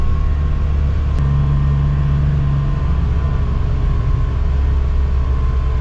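A 2025 Polaris Ranger XD 1500 side-by-side drives along with its engine droning loud and steady throughout, a low constant hum and drone, with a brief click near the start.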